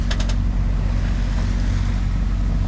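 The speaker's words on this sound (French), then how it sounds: "Il y a une houle, il n'y a pas de vent, mais alors la houle, je vous laisse regarder, infernale." A sailboat rolls in a heavy sea swell off the Greek island of Cephalonia, a constant deep rush of water and wind noise filling the whole stretch, loud and close, with a few light knocks at the start.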